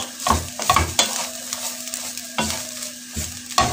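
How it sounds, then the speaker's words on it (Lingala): Food is stirred in a pot with a spoon in several distinct scraping strokes over a light sizzle, close and loud, with no talk. "Nazobalola nyampulu na ngai, natiki yango mwa moke ebela na se."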